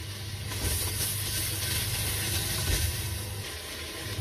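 Steady, loud close sizzling hiss of a potato and carrot curry with whisked yogurt being fried in a pan, continuous throughout with no talking.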